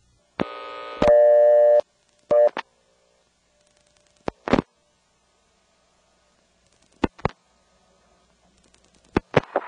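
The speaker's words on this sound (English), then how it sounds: "the callback circuit to the point where it superimposes either a busy signal or a reorder" A step-by-step telephone exchange plays a loud tone burst and then short clicks and pulses of a busy or reorder signal laid over a line recording, separated by long near-silent gaps.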